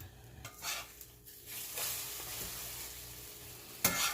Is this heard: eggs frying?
yes